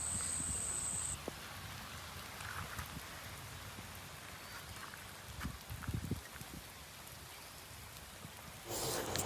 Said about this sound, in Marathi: एवढा पाऊस पडलाय पाहू शकता तुम्ही इकडे